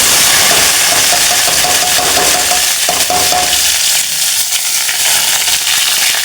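Garlic and ginger hit hot oil and fry loudly, a dense close sizzling roar that eases slightly as it continues, with occasional stirring scrapes.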